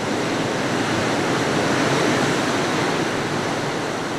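Ocean surf at Narragansett beach, Rhode Island, in winter, a steady, loud wash of breaking waves roaring without pause and with no voices.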